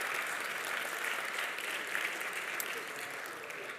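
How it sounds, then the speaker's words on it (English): Audience applause at an alumni awards ceremony, steady and sustained clapping from a crowd filling the room throughout, moderately loud with no voices standing out. "let's have a round of applause for Rory O'Neill, the father of 1886 lager."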